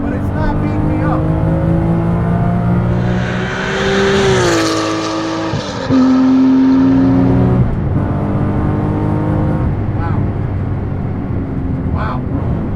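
Guntherwerks 400R, a Porsche 911 built from a 25-year-old car, driving with steady engine drone and gearbox whine; pitch climbs, dips at a gear change midway, then holds under a continuous road rumble with a voice talking over it.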